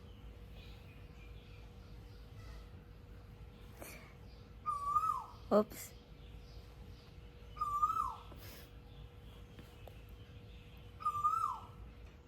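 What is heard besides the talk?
bird calling in the morning, Thailand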